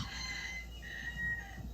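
A chicken being handled on a board outdoors, letting out a few soft clucks and crowing-like calls, fairly faint against steady low background noise.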